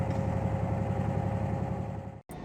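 A diesel locomotive throttled up in a train simulator game drones steadily as it pulls a manifest freight train, a low rumbling hum that holds evenly before a sudden brief dropout near the end.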